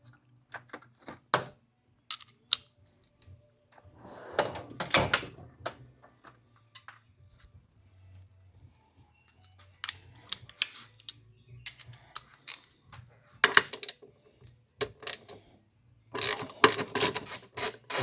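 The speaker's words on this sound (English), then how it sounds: "Then we'll go ahead and pull the 4 bolts that holds the tank." Half-inch fuel tank bolts come off a 2023 Harley-Davidson Road Glide by hand, with short bursts of ratcheting clicks separated by quiet gaps, close and moderately loud.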